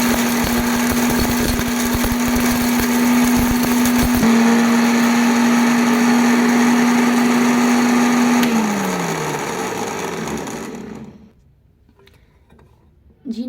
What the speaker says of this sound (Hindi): मैं अब इसे ग्राइंड करने लगी हूँ